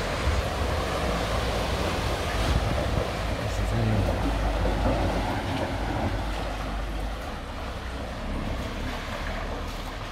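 Floodwater rushes and churns through a flooded underpass on Via Comunale San Severino, a steady broadband roar of moving water that stays loud and constant throughout, with a vehicle pushing through.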